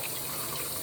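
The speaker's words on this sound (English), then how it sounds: "I'm trying to rinse out the cups before I throw the cups away" Water runs steadily from a tap while Dairy Queen ice cream cups are rinsed out, a continuous even splashing flow with no talking.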